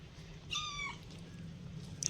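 A cat gives one clear, close meow in a home garden, standing out over a low steady hum, with a faint short chirp near the end.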